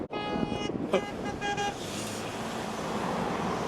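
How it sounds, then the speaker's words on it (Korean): A car honks from behind on a road in Kazakhstan, a couple of short toots early on over steady traffic and engine rumble. "나 영상 찍고 있다가 뒤차가 빵빵거려서 간다."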